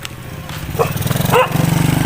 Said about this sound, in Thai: ไม่เห่าลูกมามาไม่ดื้อลูก